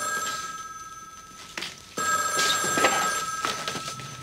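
A telephone rings in repeated electronic bursts, loud and close, with short gaps between the rings and no talking.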